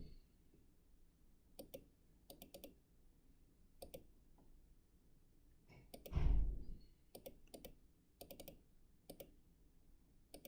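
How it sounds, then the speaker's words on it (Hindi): Sparse computer mouse clicks, single and double, spaced out over several seconds with a brief louder rustle or thump midway, heard close and quiet with no talking. "तो जैसे हम इस पर क्लिक करते हैं"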